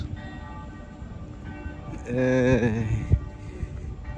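Church bells ring out briefly from a distance in Oxford, a few tolling strikes over an outdoor background.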